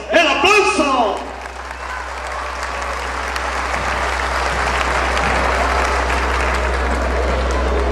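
A crowd at a Rey de Reyes bull tournament breaks into loud, sustained applause to vote for a champion bull, swelling after a brief announcer's call and holding steady with a low hum beneath.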